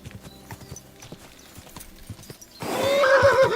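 A horse in the medieval game Kingdom Come: Deliverance 2 clops along with steady, close hoofbeats, then lets out a loud, drawn-out whinny that dominates the final second.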